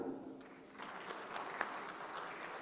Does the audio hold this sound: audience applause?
yes